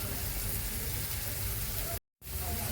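Rice frying with ghee in a pot produces a soft, continuous sizzle and hiss that breaks off briefly into silence before resuming.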